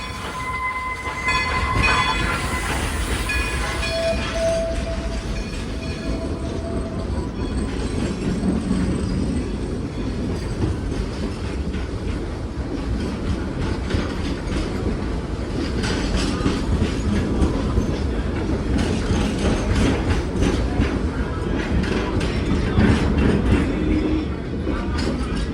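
Dollywood Express locomotive 192 heard as a continuous rumble of rolling rail cars with clickety-clack and faint wheel squeal, plus brief high whistle tones near the start, steady and close throughout.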